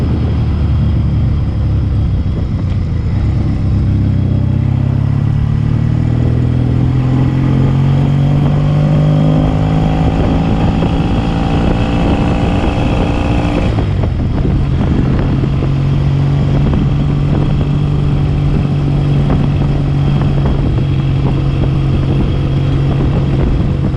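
Vintage motorcycle engine, run after being started first kick, revs climbing steadily for several seconds before dropping back to a steady, close, loud idle. There is no talk.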